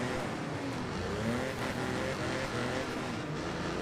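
Race car engines roar continuously in the demolition racing game Wreckfest, a dense, loud, steady drone of motors with no breaks and no talking.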